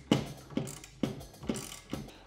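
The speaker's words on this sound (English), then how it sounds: "we're going to go through and tighten these bolts right here" A ratchet tightening roof rack bolts on a Toyota 4Runner, five evenly spaced clicking strokes, close and clear, with no talking.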